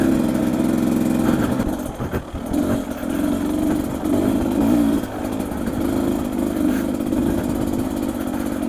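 A Beta dirt bike engine runs steadily nearby, a buzzing mid-pitched drone that dips briefly and then holds, with wind noise mixed in.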